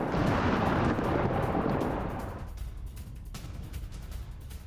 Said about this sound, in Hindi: ये देखिए आप, रिहायशी इलाकों में रूस की तरफ से बमबारी की गई।